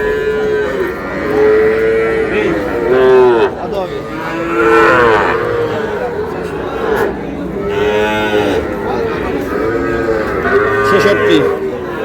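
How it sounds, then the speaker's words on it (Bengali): Several young Sahiwal bull calves moo loudly and repeatedly close by, their drawn-out calls overlapping one after another. "শাহিওয়ালের ষাঁড় বাচ্চা, ছোট ছোট বাচ্চা।"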